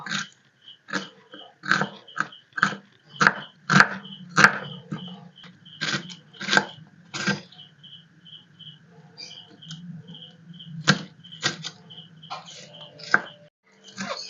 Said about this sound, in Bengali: পেঁয়াজগুলো এবারে ছোট ছোট করে কুচি কুচি করে কেটে নেব